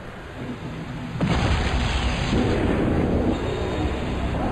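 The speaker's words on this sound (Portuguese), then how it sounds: "com o sargento Jason Denfrond, quando um AEI explodiu" Improvised explosive device blast during a military patrol, a sudden deep boom that swells into a sustained heavy rumble and roar lasting several seconds, loud and close.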